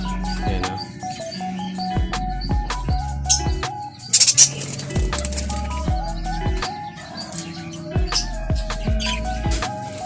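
Parakeets chirping in an outdoor aviary in the early morning, a busy mix of short tonal calls and coo-like notes in irregular bursts, fairly close and loud with no talk.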